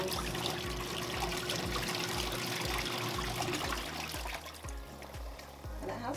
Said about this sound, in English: we're gonna go ahead and turn this again so we can rinse our clothes